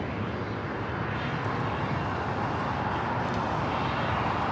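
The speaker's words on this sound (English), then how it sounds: "Finnair A350, Flight 1 coming in from Helsinki." A Finnair Airbus A350 airliner on arrival passes as a faint, even jet rumble, distant and unbroken, with no voices over it.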